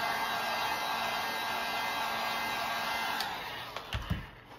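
A heat gun blowing steadily as it heats vinyl wrap on the center console of a 2019 Honda Pilot, a constant close airy roar that fades near the end and gives way to a few soft handling knocks.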